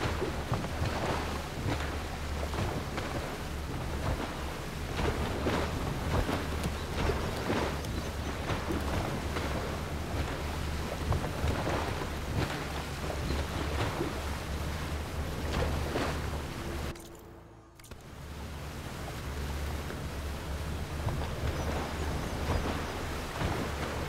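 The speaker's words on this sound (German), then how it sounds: "Ein Glück haben wir so ein motorisiertes Boot." A motorboat crosses open water in the video game Horizon Forbidden West: Burning Shores, with a steady engine drone, broadband wash of water and wind, and a brief dropout near the end.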